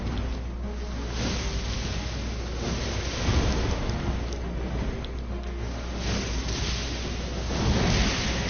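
A lightning attack in the Elden Ring video game, heard as a dense, steady crackling roar like a storm. It swells briefly in the middle and again near the end, with no talking.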